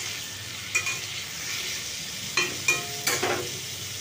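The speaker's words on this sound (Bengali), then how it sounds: "আলুগুলো এই সাদা তেলের মধ্যে একটু ভেজে নেব" Potatoes frying in white oil tempered with cumin and chilli, a constant close sizzle broken by several sharp scrapes and stirs of a spoon against the pan.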